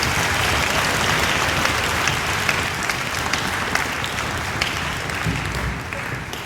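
A school orchestra audience gives a round of applause for the most improved player, a bass player, with dense, steady clapping filling the room at a loud, even level throughout.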